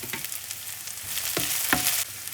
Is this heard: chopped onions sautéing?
yes